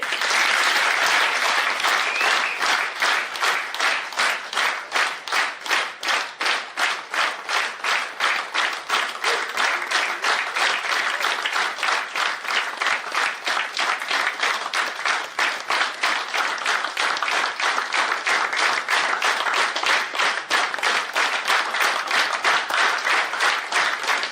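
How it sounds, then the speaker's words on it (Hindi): A large audience at a leaders' meeting in Haridwar claps hands together in unison, a fast, steady rhythmic beat of loud, close claps sustained without pause for over twenty seconds, with no talking over it. "अब ताली हम बजाते हैं, मेरे साथ बजाओगे?"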